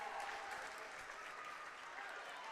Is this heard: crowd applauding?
yes